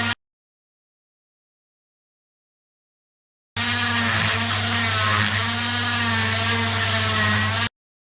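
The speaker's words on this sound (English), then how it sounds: "we're going to use an end brush and we're going to do the actual flats of the seal grooves as well as the bottom of the caliper casing" A power tool spinning an end brush in the seal grooves and casing of a motorcycle brake caliper, a steady whirring drone with a scrubbing texture that starts suddenly after a silence and runs for about four seconds.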